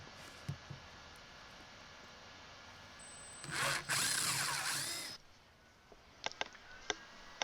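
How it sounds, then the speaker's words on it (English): A power drill bores holes for toilet plumbing, running in a loud burst of about a second and a half, then a few sharp knocks and clicks follow against quiet room tone. "we drilled both holes"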